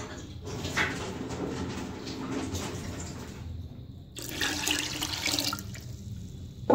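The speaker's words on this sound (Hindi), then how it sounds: "1/2 जग पानी हम इसके अंदर और ऐड कर देंगे" Water is poured into a pot of moong masoor dal, a splashing, gushing pour with a couple of pauses before it resumes, close and moderately loud.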